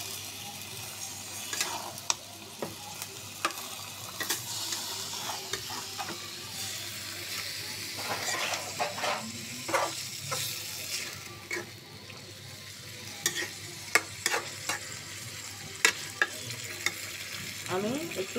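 Small local fish fry in a pan with a steady sizzle while a utensil stirs them, adding scattered scraping clicks close by, with no talk over it.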